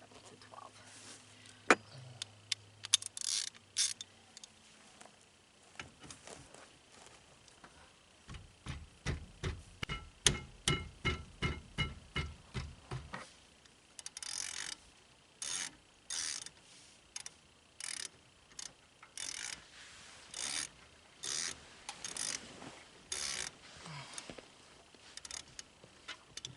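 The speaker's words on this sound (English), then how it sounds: "I'm gonna undo the bolt on the back side of the caliper." Ratchet wrench undoing the bolt on the back side of a car's brake caliper during a wheel bearing job, giving runs of quick, close mechanical clicks in bursts, with a steady series of louder ratchet strokes in the middle and no talk.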